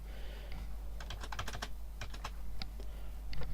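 Quick, uneven bursts of keystrokes on a computer keyboard clatter close by over a steady low hum, with short pauses between runs of typing.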